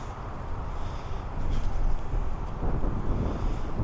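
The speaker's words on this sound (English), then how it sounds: "It's way too windy up here to be trying to test it." Gusty wind roars across a microphone on a hilltop disc golf course, a dense, steady rumble that swells slightly partway through with no other sounds standing out.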